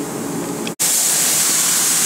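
A spray gun applying sealer to an MGB car body in a paint shop gives a loud, steady hiss up close. It cuts out for an instant, then resumes with a brighter, stronger spray.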